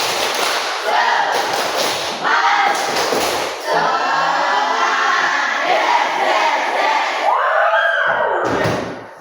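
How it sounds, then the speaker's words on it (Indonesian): A class of schoolchildren in an Indonesian classroom performs a rhythmic spirit clapping chant, loud group claps and thuds punctuated by shouted, sung voices, close and sustained for the whole stretch with brief pauses between phrases. "Dengan tepuk semangat seperti biasa. Tepuk semangat."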